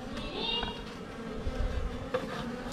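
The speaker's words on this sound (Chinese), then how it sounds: "这个蜜蜂今天算是很友好啊， 没有蛰我。" Bees hum and buzz close by around an open wooden hive being cleaned of wax moth larvae, a steady droning swarm with individual insects whining past.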